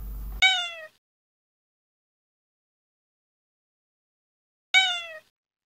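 A cat meows twice, clear and close, with a long silent gap between the two calls.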